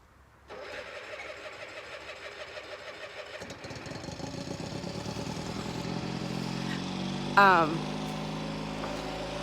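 A lawn mower's small petrol engine starts and runs steadily with a rough, chugging rhythm, close by on a sheep farm; a brief higher whine cuts in near the end.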